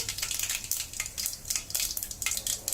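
Mustard seeds crackle and pop in hot oil in a pan while prawn kurma is being made, a quick, irregular patter of small sharp spits with no one talking.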